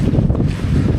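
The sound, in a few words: strong north wind blowing in a Scottish glen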